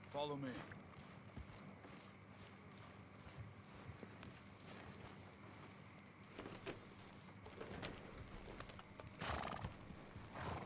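Horse hooves clip-clop steadily while a horse neighs and whinnies in Red Dead Redemption 2, with in-game ambience and some talk layered over a continuous bed of sound.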